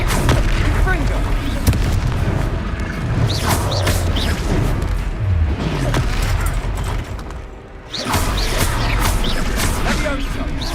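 Repeated Confringo fire-spell blasts in the Hogwarts Legacy video game, loud booming explosions and crashes recurring throughout amid dense battle noise, with a brief lull before another burst.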